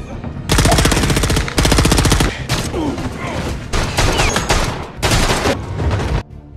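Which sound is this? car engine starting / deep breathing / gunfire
gunfire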